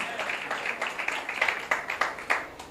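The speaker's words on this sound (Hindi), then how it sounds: "जोरदार तालियां, ये बात है।" Scattered hand claps ring out from a crowd, uneven and moderately loud, rising in bursts over a couple of seconds.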